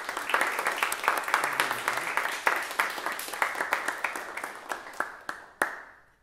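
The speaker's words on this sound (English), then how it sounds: "let's have one more round of applause for everybody" Applause from the audience at a high school jazz band's final concert, a steady wash of many hands clapping with sharp individual claps standing out, tapering off toward the end.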